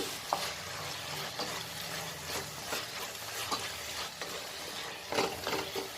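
Tomato masala for fish biryani is stirred in a cooking pot, with a spoon scraping and clicking at an irregular pace over a low sizzle, fairly quiet and close.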